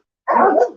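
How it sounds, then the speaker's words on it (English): One short, sharp dog bark sounds close and loud after a moment of silence. "Cabo and Delilah aren't even fazed by the crazy barking dogs."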